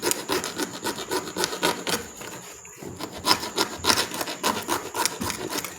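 A tool cuts off part of a handmade frog trap with repeated rough rasping strokes, close and fairly loud. The strokes pause briefly partway through, then resume in an uneven rhythm.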